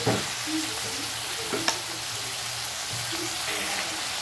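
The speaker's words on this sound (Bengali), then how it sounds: "তারপরে আমি আলুটা ভেজে নেব" Constant hiss of potatoes frying in hot oil, close by, with a single sharp clink of a utensil partway through.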